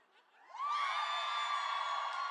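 A drag show audience cheers and whoops together, starting softly and then surging into a sustained loud burst of many voices with high yells on top.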